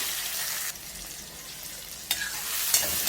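Chopped tomatoes and onions sizzling steadily in a pan, with a loud continuous fry and occasional stirring scrapes.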